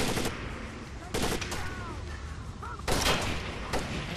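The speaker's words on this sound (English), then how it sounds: "I keep shooting them." Rifle gunfire in the video game Rainbow Six Vegas 2, heard as several loud, sharp bursts spaced a second or two apart over a steady background of game noise.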